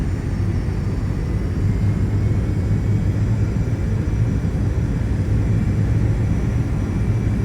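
Engine drone of a Carenado Premier business jet in a flight simulator game, a steady, loud, continuous rumble with no talking, flying low over a reservoir dam in a VR cockpit.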